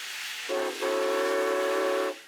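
A historic steam railway train sounds its whistle, a loud steady harmonic blast starting briefly, pausing, then holding for over a second before cutting off, over a background of train rumble.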